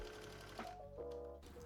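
A sewing machine hems the bottom edge of a dress, its needle running in a quiet, steady whir that briefly pauses and shifts speed partway through.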